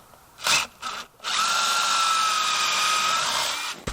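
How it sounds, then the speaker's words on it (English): Two short bursts of a power drill, then a long steady whine as it bores holes into a wooden crawlspace door, close and loud, stopping near the end. "And I'm going to continue drilling these holes"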